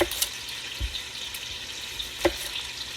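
Onion frying in a pot for Caldo Verde, a Portuguese greens soup, gives a quiet steady sizzle with a few sharp clinks and stirring knocks close by.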